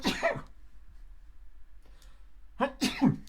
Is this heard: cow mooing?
no